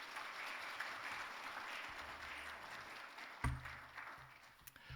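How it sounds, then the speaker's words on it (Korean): A church congregation applauding during a Sunday service in Korea, a steady wash of clapping throughout with a heavy thump near the middle. "큰 박수로 축하하겠습니다."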